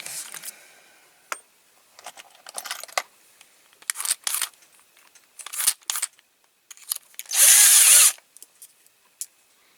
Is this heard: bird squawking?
no